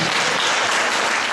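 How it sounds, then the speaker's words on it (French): Party activists at a political meeting applaud themselves, a loud, dense and continuous roar of many hands clapping together with no pauses, filling the hall without any voice on top. "vous pouvez même vous applaudir vous-même"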